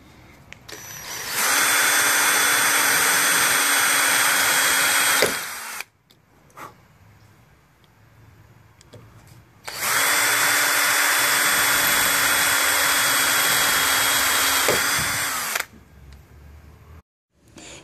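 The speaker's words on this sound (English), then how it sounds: "now we're going to put eighth-inch holes through those center punches we just put." A power drill whines steadily through two long bursts of drilling eighth-inch holes into metal for a Jeep JK Wrangler spotlight post mount, separated by a short quiet pause, close and loud.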